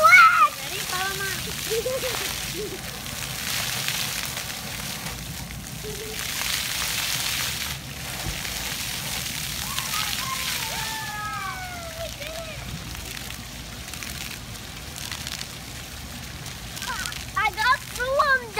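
Children run through water spray at a splash zone, with steady hissing and splashing water all through and kids' voices and shouts over it, growing louder and more excited toward the end.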